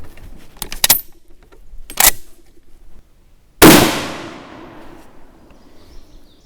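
A Swiss K31 rifle chambered in 7.5x55 fires a single sharp, loud shot that rings out and decays, preceded by metallic clicks and clacks from handling the rifle's action.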